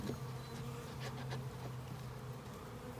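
Honeybees in a package can being shaken buzz in a dense, continuous drone, fairly faint and close, with a few soft knocks from the can and no talking.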